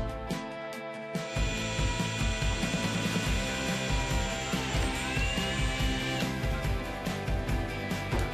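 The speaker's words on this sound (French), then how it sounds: "Utilisez pour cela un foret pour métal en vue d'un travail bien net." A metal drill bit bores into aluminium shower glass profiles to join the glass profile to the wall profile, a power drill whirring in rhythmic pulses under a steady tonal ring after a quiet start.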